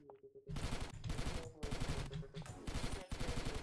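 Gunfire in the video game Riskers comes in rapid close bursts, several loud volleys separated by short pauses, with game sounds underneath.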